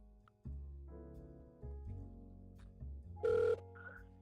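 Ringing tones sound on a phone line while a call to a Toyota dealership contact waits to connect, a few spaced electronic rings that are fairly quiet, with no talking.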